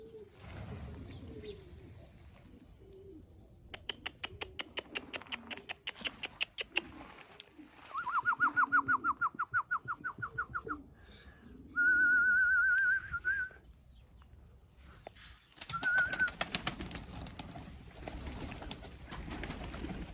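Male pigeons, black-tailed, cooing with bursts of high, thin whistling notes, some rapid and trilled, set against a quiet indoor background.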